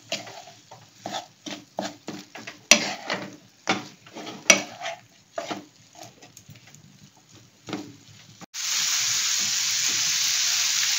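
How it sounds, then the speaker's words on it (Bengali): Paneer do pyaza with spices stirred in a pan, a series of scraping, tapping strokes with faint sizzling underneath, ending in a steady loud frying hiss. "এরপরে সবকিছু আমি নেড়ে নিচ্ছি"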